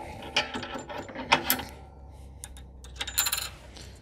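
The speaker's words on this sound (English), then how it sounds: "we're just gonna pile the remaining washers on top of the pin" Metal washers clink and rattle as they are stacked onto a plow mount pin while fitting a KFI plow to a CFMOTO ZFORCE side-by-side; short, light metallic taps come in small clusters against quiet background.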